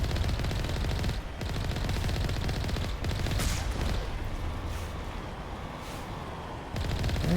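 Sustained automatic gunfire from a Mass Effect Legendary Edition firefight, dense rapid bursts running almost without pause, loud and close, with a short gap near the start before the shooting resumes.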